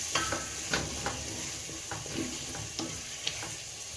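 Potatoes with salt and a paste being stirred in a pot for githeri, a steady scraping and stirring with repeated spoon knocks against the pot at close range, with no voices.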